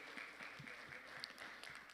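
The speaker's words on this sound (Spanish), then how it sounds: "le damos un aplauso al Señor por ello" Faint applause from a crowd, a steady patter of many hands clapping at a distance for about two seconds.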